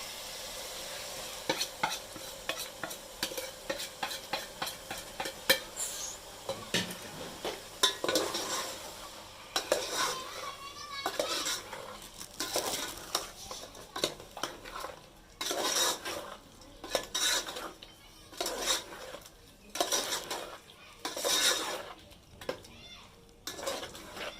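Masala of tomatoes, ground chillies, green chillies, turmeric and salt fries and sizzles in a pot while a spoon scrapes and clanks against the metal in steady repeated strokes, close and continuous without speech.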